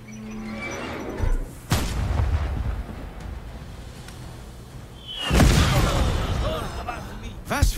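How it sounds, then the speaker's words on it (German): Explosions in the survival strategy game Last Train Home, with red barrels blowing up as two sharp booms about three seconds apart followed by rumbling debris, mixed with game effects and someone talking. "Was für eine Explosion."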